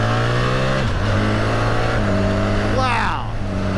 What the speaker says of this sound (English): I'm going to try a little clutchless power shift here